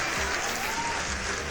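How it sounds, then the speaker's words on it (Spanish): A panel breaks into applause: a brief, even burst of many hands clapping at once, fairly loud and sustained with no talk on top. "Mi panel de notables aplauden, sí, todos aplauden."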